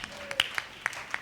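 Scattered claps from a congregation at a Sunday church service, several sharp hand claps in a brief uneven burst.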